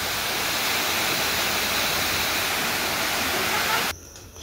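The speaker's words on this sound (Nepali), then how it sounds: "ब्याकग्राउन्डमा झर्नाको आवाज अलि लाउड आइरहेको थियो" Roaring waterfall, a loud continuous broadband rush that fills nearly the whole stretch before cutting away to a quieter background.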